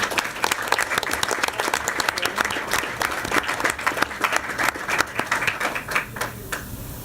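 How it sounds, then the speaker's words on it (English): Audience applause at a school board of education meeting, a dense steady clapping from a roomful of people that holds for several seconds and thins slightly toward the end. "So please give them a round of applause."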